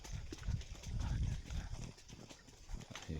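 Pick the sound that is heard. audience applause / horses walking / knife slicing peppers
horses walking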